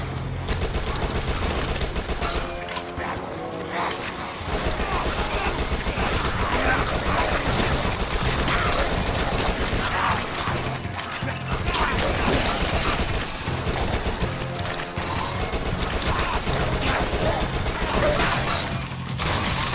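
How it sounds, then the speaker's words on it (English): SMG firing in the shooter Dead Nation, with rapid, continuous bursts of automatic gunfire and mechanical clatter that run loud and dense, pausing only briefly between volleys. "SMG."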